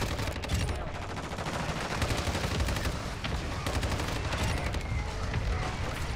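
Hip-fire gunfire in the video game Call of Duty rattles almost continuously, a dense, loud stream of rapid shots layered with battle noise and no clear pauses.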